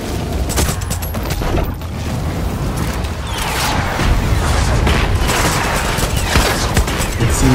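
Pistol fire rattles off in quick bursts during a Far Cry 6 firefight, mixed with booms and mechanical clatter. The shots stay loud and dense throughout, with no talking.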